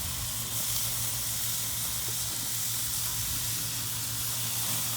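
Chicken sizzling on a hot barbecue grill, a steady close hiss and crackle of frying with a low hum beneath, while the pieces are flipped with tongs; no one speaks.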